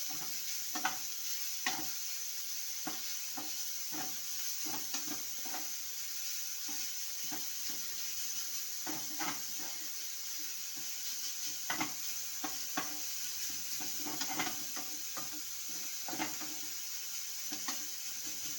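Carrots fry in a pan with a low, constant sizzle, while a spatula scrapes and taps against the metal in frequent short knocks, irregular but steady throughout.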